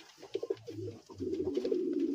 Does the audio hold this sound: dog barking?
no